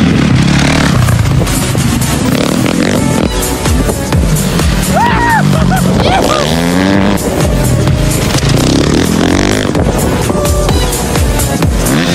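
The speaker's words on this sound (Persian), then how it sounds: "یه سری هم که با موتور کراس اومده بودن" Motocross motorcycles riding in the desert near Abuzeidabad, their engine whines rising and falling as they pass, half buried under heavy wind buffeting, with some voices.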